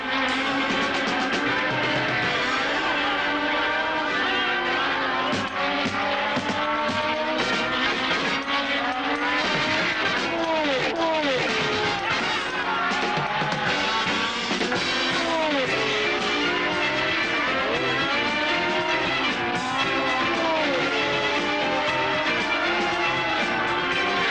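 Formula 1 race cars, a McLaren closely following a Lotus, scream past at speed on a circuit, engine notes rising and falling with Doppler sweeps as they pass, loud and continuous throughout.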